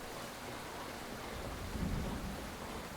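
Rain falls steadily in the video game The High Tower, with a soft low roll of distant thunder swelling briefly partway through, all fairly faint and continuous.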